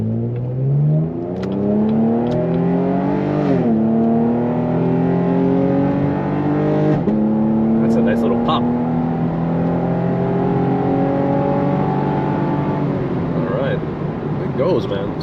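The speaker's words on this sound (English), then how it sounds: "This car definitely goes." A 2018 Chevrolet Camaro RS accelerates hard, heard from inside the cabin. The loud engine note climbs steadily, drops sharply at each gear change, then climbs again through several gears.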